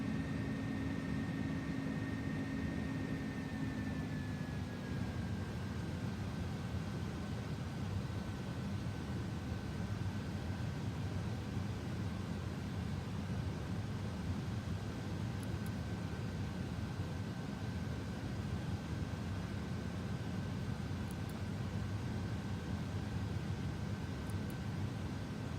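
Airliner climbing after takeoff in Microsoft Flight Simulator 2024 gives a steady, loud engine roar over broad cockpit rumble, with a whining tone that drops in pitch early on and then holds level.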